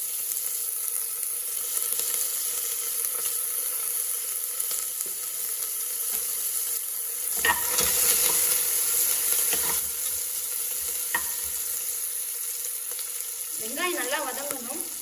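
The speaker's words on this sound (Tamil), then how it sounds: "வெங்காயம் ஆட் பண்ணிக்கலாம். அதோடவே கருவேப்பிலை ஆட் பண்ணிக்கலாம்." Onions and curry leaves sizzle steadily in oil in a pan, a continuous bright frying hiss with occasional stirring clatter, close and fairly loud throughout, no talking.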